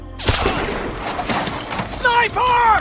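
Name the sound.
gunfire in a war film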